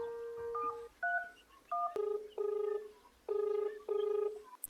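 A telephone number is dialed as a sequence of about nine clear touch-tone beeps. Each tone is short and distinct, and the gaps between them vary.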